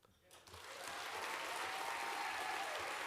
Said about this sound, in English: Keep your applause going for Amanuel Woldemedhen.